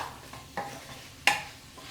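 Capsicum stirred in a pan over a low flame, a soft steady sizzle broken by two brief scraping strokes of the spoon, close and fairly quiet.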